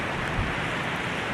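Steady wind and rain during a sudden storm along the Missouri River shoreline, a dense, even wash of noise close to the recorder with no other sounds.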